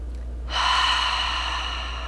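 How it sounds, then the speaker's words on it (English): A single deep exhale through the mouth during a hip-opening hatha yoga session, close and breathy, starting about halfway in and trailing off slowly over a low steady hum. "few nice deep breaths in and out through your nose. Maybe even letting out some exhales through the mouth."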